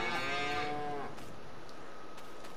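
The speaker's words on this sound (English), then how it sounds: "over here you've got your cow barn" A cow in a barn on the Norwegian Fjorddal map in Farming Simulator 22 gives one loud, drawn-out moo lasting about a second, followed by quiet ambient background.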